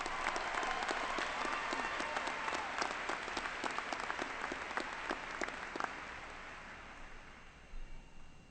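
Audience at a 2013 high school graduation ceremony giving sustained applause to the school orchestra, a dense wash of clapping from a large crowd that tapers off near the end.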